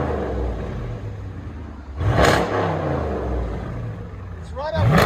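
Dodge Charger R/T with a 5.7L HEMI V8 and mid muffler delete, exhaust rumbling at idle then barking through two short sharp revs, close and loud, with voices talking over it.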